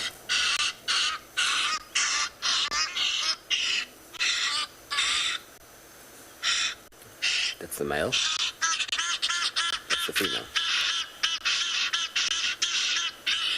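Male and female hadeda ibis calls play from a recording on a sunset safari: loud, harsh, raucous squawks in repeated bursts with short gaps, and a person speaks briefly between them.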